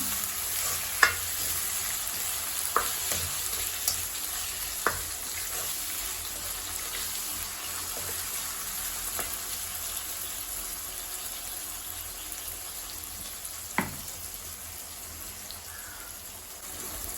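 Onions and tomatoes sautéing in a pan for Chettinad chicken curry, a continuous soft sizzle with a few sharp scrapes or taps of a spoon scattered through, no voices.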